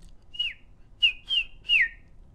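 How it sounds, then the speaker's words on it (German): Four short, soft whistles from a mouse, each a high note sliding downward, spaced apart against near silence. "Da hörte Lisa wieder das leise Pfeifen."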